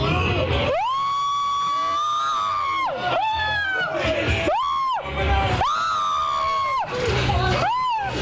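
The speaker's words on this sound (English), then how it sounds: "I knew it was going to be a scream, but that was better than I expected." Riders screaming on the Tower of Terror drop ride: loud, sustained group screams and shrieks rising and falling in repeated waves, crowd-like and close.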